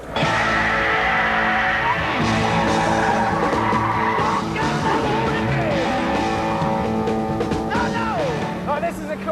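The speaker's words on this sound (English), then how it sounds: "You can just gun it through the gears, savouring that noise" An MGF Trophy 160 sports car engine roars and revs hard on a track, climbing and dropping as it shifts through gears, loud and close, with a tire squeal near the end.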